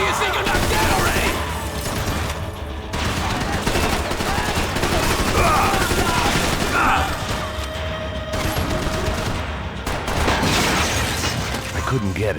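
Gunfire in the video game Max Payne 3 comes as dense, continuous bursts of shots and crashing impacts, loud and layered under a talking voice and game noise.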